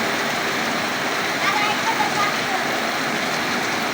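Heavy rain falls on a street in Nabinagar, Mohammadpur, after intense heat, making a loud, dense, steady hiss that fills the whole stretch without pause.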